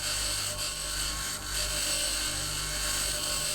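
Steady whirring grind of a tool cutting down tanks for salvage in the Mars colony game Occupy Mars, a continuous high drone with brief dips, moderately loud and alone.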